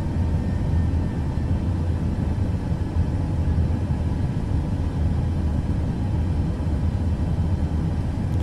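A Boeing 737 MAX jet in Microsoft Flight Simulator 2024 during a manual go-around, giving a steady, loud, broadband engine roar and rumble that holds constant throughout, with no speech.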